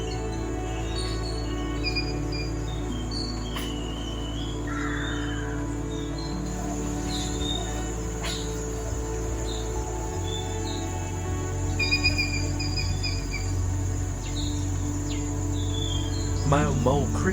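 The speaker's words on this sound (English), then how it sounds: "Male mole crickets can sing a distinctively loud song." Male mole crickets sing a loud mating song: a steady, continuous insect trill that runs unbroken throughout, with scattered bird chirps over it.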